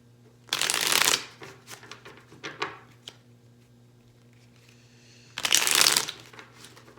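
Two loud close bursts of a tarot card deck being riffle-shuffled, each about half a second long, several seconds apart, with lighter card handling and tapping in between.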